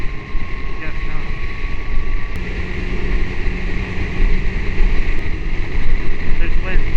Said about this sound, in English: A little bit of wind coming from the north.